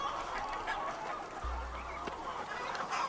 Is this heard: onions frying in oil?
no